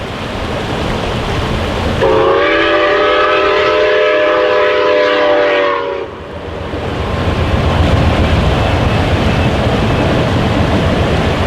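A loud steam whistle from steam locomotive 261 blows steadily for several seconds over the rumble of the train crossing the Sandstone Bridge over the Kettle River in Minnesota, which keeps rolling after the whistle stops.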